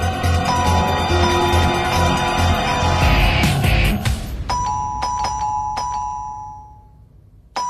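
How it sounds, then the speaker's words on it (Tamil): An indoor calling bell rings in a home, several sharp electronic ding-dong tones repeating loudly and close, with a clattering noise before the chimes. "ரொம்ப நேரமா காலிங் பெல் அடிச்சிட்டு இருக்க"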